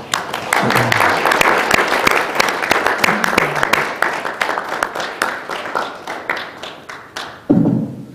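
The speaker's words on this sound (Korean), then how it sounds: "큰 박수 부탁드리겠습니다." Audience applause at a forum event, individual claps distinct and fairly close, thinning and fading over several seconds before a brief voice or thud at the end.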